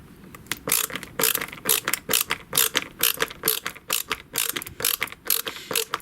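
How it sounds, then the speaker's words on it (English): A ratchet screwdriver clicks through a quick, steady run of bursts, each one a rapid pawl rattle, recorded close and alone with no talk over it. "you can actually ratchet it if you want to"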